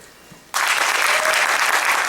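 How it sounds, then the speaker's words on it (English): A comedy-show audience breaks into sudden loud applause after a quiet half-second, with dense, even clapping that continues to the end. "Applaud if you're on LinkedIn."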